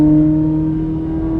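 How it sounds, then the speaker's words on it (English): 2025 Corvette Z06 engine while driving, a loud, close, steady drone with strong low harmonics, heard alone without talk. "Might have to yell quite a bit over this very, very loud and very close engine here."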